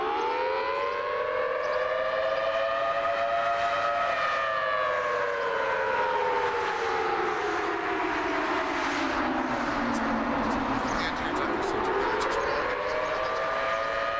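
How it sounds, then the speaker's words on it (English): Air raid sirens wail near Shuwaik port in Kuwait City, several overlapping tones rising and falling slowly and continuously, loud and sustained throughout with no voices. "Let's listen into the sirens."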